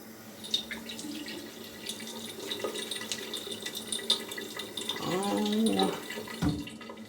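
Tap water running into a sink during a rinse after a shave with a Gillette Super Speed razor, a steady close splash with a brief gurgle of water near the end.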